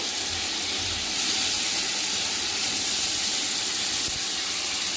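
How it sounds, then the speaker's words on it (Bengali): Tilapia pieces go into a pan of fried spice paste with onion, giving a steady, loud sizzle and hiss that runs unbroken throughout. "মশলা কষানো হয়ে গেছে এবার ছেড়ে দিচ্ছি মাছগুলো"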